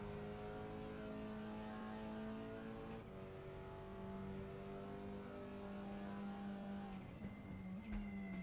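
A TCR race car engine on a fast lap at Salzburgring in a racing video game, a loud continuous high-revving drone with rising pitch, a sharp gear change around the third second and another shift near the end.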